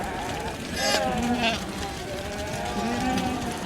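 Lambs and sheep bleat in a farm flock during ram lamb sorting, several wavering calls at moderate distance, one around the middle and a longer one near the end, over a steady background murmur.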